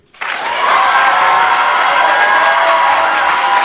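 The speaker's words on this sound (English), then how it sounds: "On the count of 3, we're gonna give them the proper clap that they deserve." A graduation ceremony audience bursts into loud applause after a brief silence. The dense crowd clapping swells quickly and holds steady throughout.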